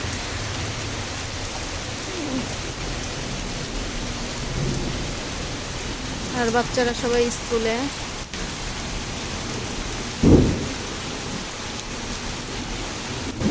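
Heavy morning rain pours steadily with thunder, a dense wash of rainfall on surfaces broken by a low rumble and a sharper crack near the end, while someone speaks briefly over it.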